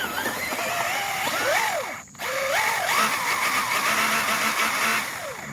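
A Kyosho Fazer MK2 RC car on 3S power whines through grass, its electric motor rising and falling in pitch with repeated bursts of throttle and a brief cutout midway, close and fairly loud.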